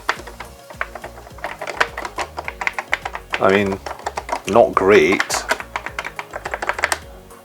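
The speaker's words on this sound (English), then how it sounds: "We have a full family computer keyboard." Keys clack on a Nintendo Famicom Family Computer keyboard, rapid uneven tapping running throughout, with a voice breaking in briefly midway.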